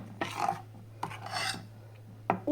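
Homemade papadum dough is mixed by hand, giving three soft, close rubbing and scraping strokes in an uneven rhythm over a faint low hum. No one speaks.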